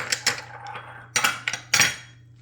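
Spoon stirring pumpkin pie filling with bourbon in a bowl, a few close metallic clinks and scrapes in two short clusters, with no talk.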